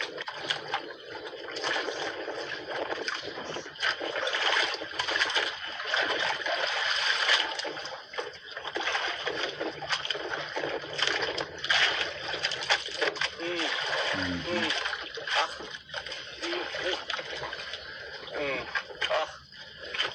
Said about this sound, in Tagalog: May dumang bangka.